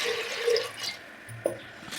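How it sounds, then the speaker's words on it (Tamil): Water is poured from a tap onto washed lentils in a pressure cooker, a brief gurgling trickle with a few drips, close and moderately loud with no voices. "தண்ணி சேர்த்துக்குவோம்"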